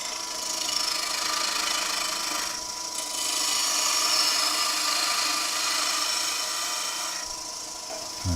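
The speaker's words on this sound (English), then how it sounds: "We're going to do that with a bowl gouge" A bowl gouge skims and cleans up the surface of spinning wood on a lathe, a continuous close scraping, hissing cut with a steady hum, briefly easing off twice before resuming.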